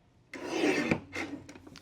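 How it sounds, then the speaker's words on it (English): An aqua paper sheet is cut with a paper trimmer at a scrapbooking table: a long scraping slide followed by a second shorter pass, then a few light taps, close and clear with no talking. "The other sheet of aqua we'll cut at 6 1/4."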